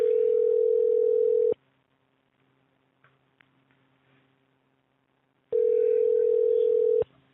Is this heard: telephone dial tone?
yes